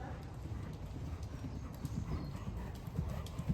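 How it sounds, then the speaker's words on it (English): A long-haired Lipizzaner horse canters during a dressage demonstration, its hooves thudding on the ground in a steady three-beat rhythm, close and clear across the whole stretch. "I think we should let him canter a bit more like that"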